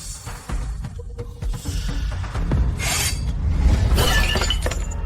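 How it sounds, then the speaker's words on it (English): A lock on a box is smashed open with several sharp cracking, shattering impacts in quick succession, close and loud over low rumbling background noise, without speech. "this lock needs to be smashed open."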